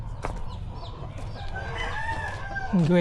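Nearby chickens cluck and murmur in the background of a backyard farm, ending with a loud rising call from a hen or rooster.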